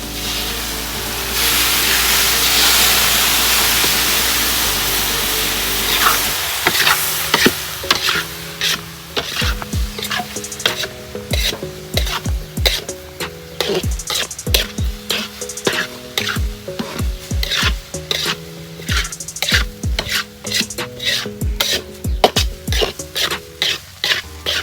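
Milk poured into a hot pan of roasted dried coconut while making topra pak ladoo sends up a loud sizzling hiss for several seconds, then gives way to rhythmic scraping stir strokes.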